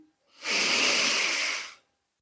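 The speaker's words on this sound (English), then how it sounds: "And we're breathing in" A single long, steady inhale during a guided breathing and movement exercise, rising smoothly, holding airy and breathy for about a second, then fading, close and alone with no talk.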